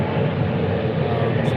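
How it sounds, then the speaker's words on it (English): An airplane flies past near an airport while someone is out fishing by a shipping corridor, a steady, low, broad rumble that holds evenly throughout the short stretch. "You might hear airplanes flying by."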